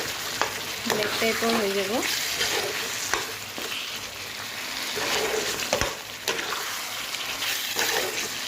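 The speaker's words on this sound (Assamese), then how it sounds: "মই এইখিনি অলপ সময় ফ্ৰাই কৰি পানী দি দিম" Goat mutton sizzling and frying in a pan with tea-leaf water, a steady loud hiss with stirring scrapes throughout, while someone speaks briefly over it.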